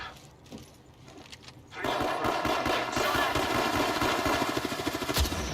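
Automatic gunfire in the Apex Legends video game, quiet at first, then a sustained loud burst of rapid shots with game ambience.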